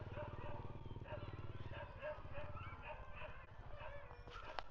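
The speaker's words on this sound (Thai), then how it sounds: "ใกล้ ๆ ก็จะมี สุนัขเยอะหน่อยนะครับ" Dogs bark and yip at an ancient temple site in Kamphaeng Phet, several short rhythmic barks at moderate distance, with someone talking over them.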